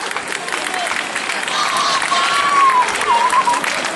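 An audience claps steadily at a school end-of-year party and yearbook-photo ceremony, a dense room-filling applause that swells slightly toward the end, with a voice briefly heard over it.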